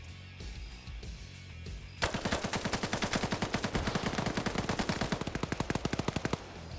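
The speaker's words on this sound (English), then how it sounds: "That's gonna buy Pupper time to reload his machine gun." Rapid machine gun fire in a PvP video game, a long, dense burst of evenly spaced loud shots that starts abruptly after a quieter stretch of game ambience and keeps its steady rhythm to the end.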